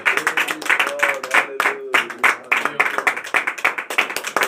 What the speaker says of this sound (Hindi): उस परमेश्वर के लिए हम ताली मार के धन्यवाद देते हैं।